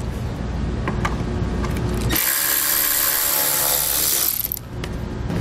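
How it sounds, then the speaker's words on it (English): A power driver whirs steadily for about two seconds backing out the T30 Torx screws that hold a taillight housing on a 2018 vehicle, a sharp close-up buzz standing alone. "we want to remove the two T30 screws that hold it in place."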